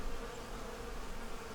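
Honey bees buzz around a beehive that has been knocked apart by a storm, giving a faint, continuous droning hum with no voices.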